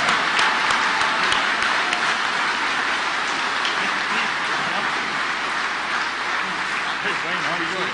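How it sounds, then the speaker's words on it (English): Audience applause for a carbon tax fighting trio at an energy workers' rally, a dense, steady wash of many hands clapping that fills the whole stretch at close, loud level. "a round of applause for our carbon tax fighting trio"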